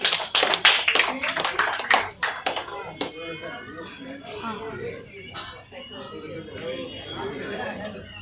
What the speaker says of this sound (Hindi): जोरदार तालियों से प्लीज इन सबका स्वागत किया जाए।